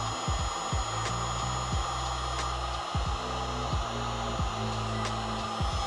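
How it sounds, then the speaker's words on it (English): A heat gun sealing crimped wire connections while installing a kill switch in a Toyota Tacoma, blowing a steady, close, whirring hum with faint ticking clicks running underneath. "now it's time to use a heat gun to seal up some of those connections"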